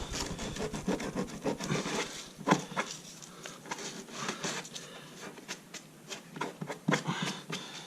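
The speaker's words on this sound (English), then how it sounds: "And then just take a piece of sandpaper." Sandpaper rubs by hand across a plastic rock guard for a Polaris Ranger XP 1000, close and quiet, irregular scratchy strokes with uneven rhythm and a few sharper scrapes.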